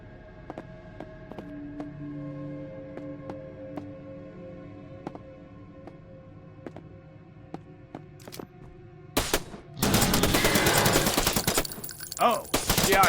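Gunfire rings out in the S.P.A.T. video game as a werewolf is fought, with sparse sharp shots early, then a dense, loud burst of rapid shooting in the closing seconds.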